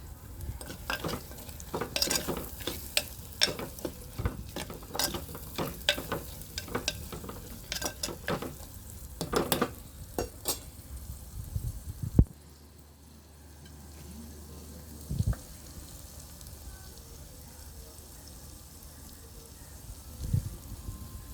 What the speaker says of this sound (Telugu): ఇంకా ఇప్పుడు ఉల్లిపాయలు వేస్తున్నాను